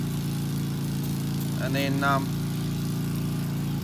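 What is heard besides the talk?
Briggs and Stratton lawn mower engine running, warming up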